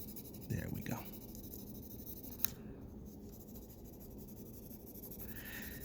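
A pencil shades across paper in soft, quiet scratchy strokes. A few louder scrapes come early and a short tick follows. There is no speech.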